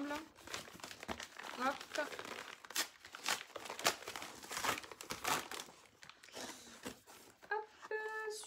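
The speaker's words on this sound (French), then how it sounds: "J'ai également trois colis, on va les ouvrir ensemble." Book parcels being opened, plastic and paper packaging crinkling and tearing close up in repeated bursts, with a person speaking briefly.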